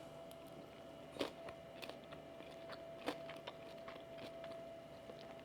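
Someone bites into and chews air-fried potatoes, a few crisp crunches spaced irregularly over a quiet room background, close and fairly faint.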